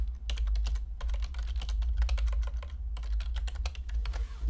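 Fast, uneven clicking of computer keyboard keys, close up, with clusters of keystrokes and short gaps, over a low steady hum.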